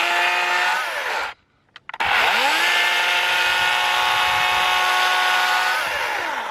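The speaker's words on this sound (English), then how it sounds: "That's the easiest way to sharpen up chainsaw" A self-sharpening chainsaw runs at high revs while its chain is sharpened, a loud, close, sustained whine that cuts out briefly and then roars back at full speed.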